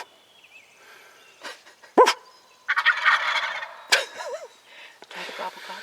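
Wild turkeys gobbling during a spring bow hunt in Massachusetts, several rattling calls in bursts at moderate distance, with sharp clattering sounds and a dog-like bark mixed in.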